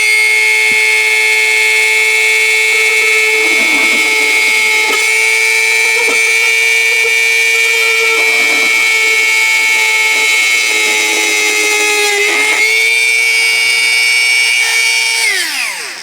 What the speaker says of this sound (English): Now it's gonna be loud. I would like to drill here a hole inside